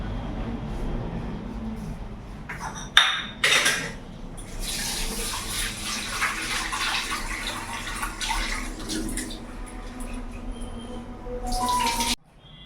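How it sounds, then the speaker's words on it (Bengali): Mixed dal lentils being washed in water, with steady splashing and running water throughout and a couple of louder sloshing bursts, close up and with no talking. "তার আগে মিক্সড ডালটা আমি ভালো করে ধুয়ে নিই"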